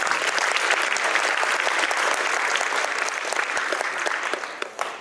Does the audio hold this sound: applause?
yes